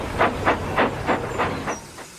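A steam tram engine chuffs steadily, six or seven evenly spaced hissing puffs of steam at a brisk, regular rhythm, fairly close and loud, with no talking.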